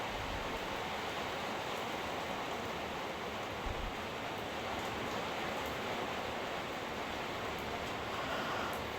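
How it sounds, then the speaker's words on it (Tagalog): Heavy rain falls steadily outside on a windy night, a dense, constant hiss that stays loud and unbroken throughout with no voices over it. "Grabe mga palangga ang ulan kagabi pa gini"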